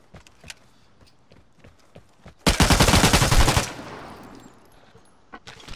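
A rapid burst of gunfire during a shootout game erupts loud and dense for about a second, set among scattered sharp cracks and footstep-like knocks before and after.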